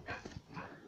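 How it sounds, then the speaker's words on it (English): A dog in a Minecraft map lets out a brief, faint whimpering yip, close and quiet, lasting under a second. "I'm gonna show you what my dog looks like."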